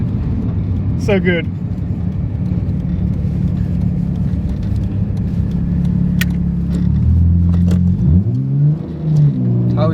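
Nissan Skyline R33 GTS engine rumbling at close range, idling and then revving with rising and falling pitch near the end, under a voice.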